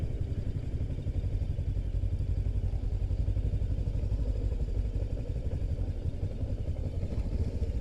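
A Voge 525DSX motorcycle pulls away in first gear. Its engine runs steadily and close, with a throbbing mid-range drone that holds at a constant level throughout.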